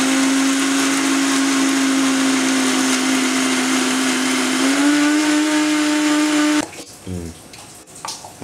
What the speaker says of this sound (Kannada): ಜಾರ್ನಲ್ಲಿ ಎಲ್ಲ ಸಾಮಗ್ರಿಗಳನ್ನ ಹಾಕ್ಕೊಂಡಿದ್ದೀನಿ, ಈಗ ಗ್ರೈಂಡ್ ಮಾಡ್ತೀನಿ.